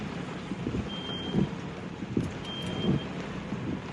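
Steady rain falls outdoors, a dense, even wash with a few louder gusts or rumbles mixed in. It sounds close and fairly loud, and no one speaks.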